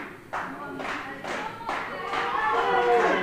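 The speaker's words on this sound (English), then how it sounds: "Crowd clapping, trying to give the champion their energy" A wrestling arena crowd claps in a rhythmic, building beat, the claps blending into a dense, loud wash toward the end.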